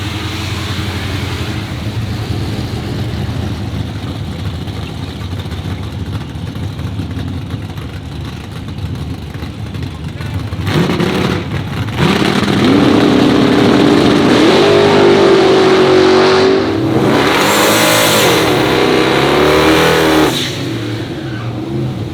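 A procharged 400 cubic inch small block Chevy in a '97 GMC Sierra pickup idles with a loud, lumpy rumble, then revs hard with a rising, whining supercharger note before settling back, close and alone.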